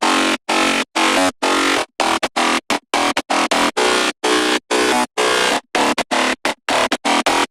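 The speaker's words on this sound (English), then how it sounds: "for the drop I use like 4 layers of bass" Thick, gritty layered synth bass blasts in stuttering rhythmic bursts, loud and distorted, separated by sharp silent gaps.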